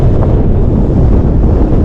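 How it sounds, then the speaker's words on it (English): Strong wind buffets the microphone on the exposed Sheffield Pike summit at 675 metres in the Lake District, a loud, continuous low roar with gusty rumbling throughout and no voices. "it is pretty windy up here. I'm in a pretty exposed spot."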